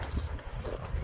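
Pony hooves stepping on ground, a few close soft thuds in irregular rhythm over a noisy outdoor background.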